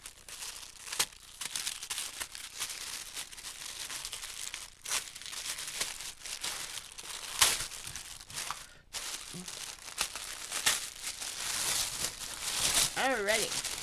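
Tissue paper from an order crinkles and rustles close up while being unpacked, in bursts of crumpling with a few sharper tearing sounds and brief pauses.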